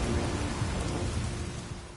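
Steady rain pours down with rumbling thunder rolling beneath it in a stormy scene from The Witcher 3, a dense continuous wash of sound with no speech.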